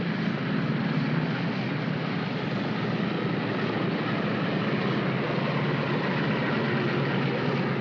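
Steady, continuous drone of a propeller transport airplane taxiing on a runway, loud and unbroken with no voices.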